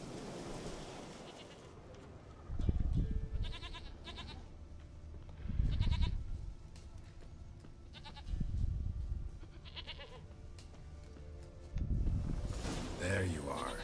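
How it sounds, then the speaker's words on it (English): Goat bleating in the video game The Witcher 3, several drawn-out bleats repeating every few seconds over ambient game sound with distant surf. "Hey, we found the goat."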